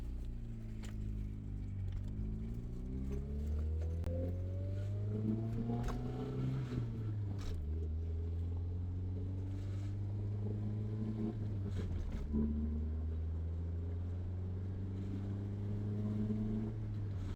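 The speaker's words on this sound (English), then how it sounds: "that's how this car's supposed to run" A Honda CRX engine runs while driving, revving up through several gears with clear rising pitch sweeps and drops at each shift, close and steady with no talking.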